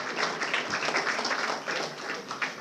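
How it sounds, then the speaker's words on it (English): Crowd at an NCC Day celebration giving a sustained round of applause, dense steady clapping from many hands throughout. "give them a good round of applause"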